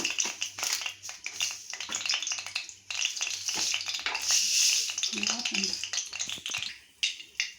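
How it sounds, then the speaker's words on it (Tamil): Mustard seeds spluttering and popping in hot oil in a kadai on a stove, a dense crackling sizzle with sharp pops running steadily throughout at close range, with a low hum beneath. "கடுகு நல்லா பொரிஞ்சிச்சு."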